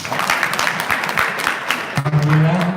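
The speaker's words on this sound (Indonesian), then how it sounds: "mana tepuk tangannya?" An audience applauds at a religious talk given by an Indonesian preacher. A short burst of clapping fills the room, and a voice comes in near the end.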